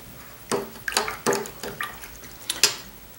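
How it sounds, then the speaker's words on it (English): A watercolor paintbrush being rinsed in a water jar: a series of close, sharp swishes, taps and splashes in irregular bursts, with quiet between them. "I am going to rinse out my brush."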